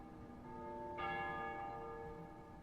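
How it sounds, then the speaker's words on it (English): Church bells ring at dusk in a city in Ace Combat Zero: The Belkan War, a sustained, fairly distant peal whose tones swell in and linger with a soft resonant hum. "They ring the bells here at dusk to honor the liberation of the capital."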